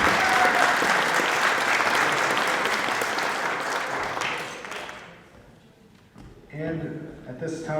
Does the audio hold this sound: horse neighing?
no